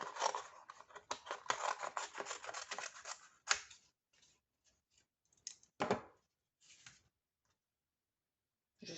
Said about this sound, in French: Et je vais couper. J'ai pas d'autres ciseaux